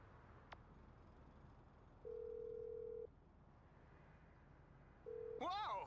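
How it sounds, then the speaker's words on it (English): A phone ringtone in Grand Theft Auto V, a tinny melodic electronic jingle that starts near the end, after steady tones and light background game noise. "who changed my ringtone?"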